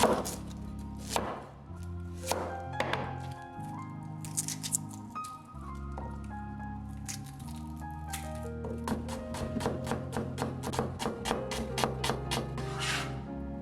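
A knife chops a small red onion on a board, starting with scattered strokes and building into faster, denser clusters of sharp knocks. The knocks are close and moderately loud, with no speech.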